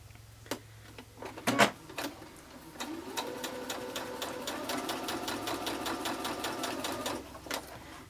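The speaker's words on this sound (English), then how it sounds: "I have a nice 1/4-inch foot on my sewing machine." A sewing machine fitted with a quarter-inch foot stitches quilt seams for a four-patch block, running in a fast, steady rhythmic chatter up close after a few clicks and handling sounds.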